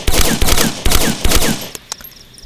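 A Silent Sten submachine gun fires in the video game Vietcong, a World War II era British weapon. Several quick bursts of sharp, loud, close shots with short gaps between them, then a few lone clicks and pops as the firing stops.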